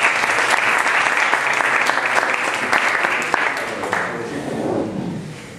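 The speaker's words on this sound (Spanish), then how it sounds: "Un aplauso para los hombres." Enthusiastic applause from a live audience at a business talk, dense and sustained clapping that fills the room and slowly thins out toward the end, with some voices mixed in.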